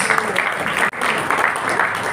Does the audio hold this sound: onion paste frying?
no